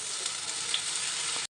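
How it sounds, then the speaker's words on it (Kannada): Buttermilk hits a hot pan for a curd sambar, setting off a bright, constant sizzle that runs evenly before cutting off abruptly, with no talking. "ಅದನ್ನ ಮಜ್ಜಿಗೆನೇ ಇದಕ್ಕೆ ಸುರಿತಾ ಇದ್ದೀನಿ."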